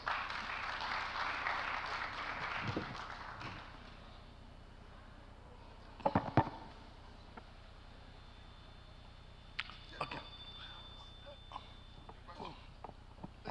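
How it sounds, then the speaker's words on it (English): A panel session audience on journalism education applauds, a light, fairly distant patter of clapping for the first few seconds that fades out, followed by quiet room tone with scattered thumps and small noises. "A round of applause for him, please."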